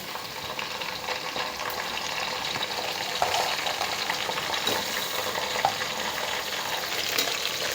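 Tomatoes and mint fry together in a pan with a loud, continuous sizzle and occasional stirring scrapes, close up and with no voices.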